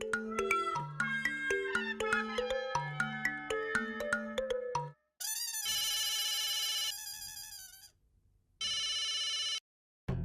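A telephone ringtone plays a bright repeating electronic melody for about five seconds, followed by loud, clipped beeping tones in bursts separated by short silences; no speech.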